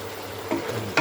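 Onions frying in a pan, with a close, constant sizzle and a couple of quick stirring scrapes.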